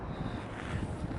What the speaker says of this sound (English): Nice and breezy out here